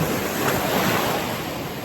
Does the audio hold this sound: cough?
no